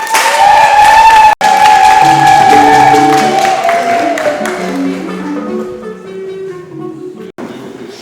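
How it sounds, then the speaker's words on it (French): Congregation applauding during a mixed Belgian-Cameroonian religious wedding in Ma'an village, a loud sustained patter of clapping over a held voice or tone that fades after several seconds. "Applaudissons pour vous."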